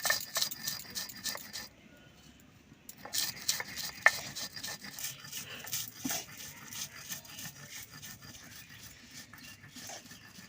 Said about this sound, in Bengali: এবার আমি বেটে নিচ্ছি মশলাটা